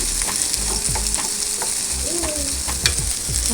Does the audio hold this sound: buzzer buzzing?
no